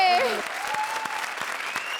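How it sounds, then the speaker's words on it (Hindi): A Comedy Circus 3 studio audience claps loudly for Jimmy, Tina and Suraj after their act. A brief swooping musical sting opens the moment, then continuous full-room applause runs on evenly to the end. "जोरदार तालियां जिमी, टीना और सूरज के लिए।"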